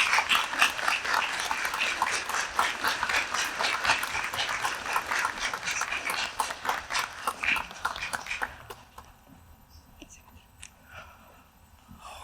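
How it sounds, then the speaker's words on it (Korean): A church congregation at a thanksgiving service for a new NCCK general secretary breaks into sustained clapping to welcome a pastor to the front, then the applause fades to near quiet. "나오실 때 박승용 목사를 맞이하는 마음으로 박수로 맞아주시기 바랍니다."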